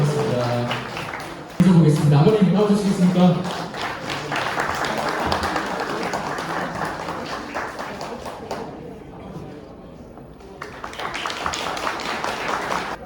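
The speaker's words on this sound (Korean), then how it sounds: "여러분 박수 한번 보내주세요" A crowd claps in sustained applause at a wedding ceremony in a convention hall, steady and fairly loud, with voices and background noise mixed in throughout.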